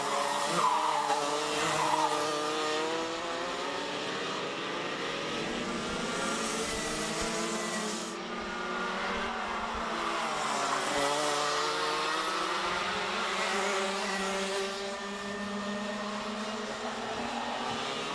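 Senior Max race karts at a national karting round scream past on track, layered high-revving two-stroke engines rising and falling in pitch as they pass and fade, loud and continuous.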